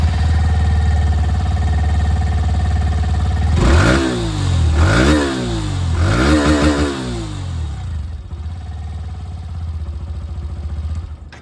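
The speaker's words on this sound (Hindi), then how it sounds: "एग्जॉस्ट साउंड है वो भी मैं आप लोगों को सुना दूँ।" A 2025 Hero Glamour X 125 motorcycle idles with a steady low thrum, then its exhaust revs sharply three times in quick succession before settling back to idle.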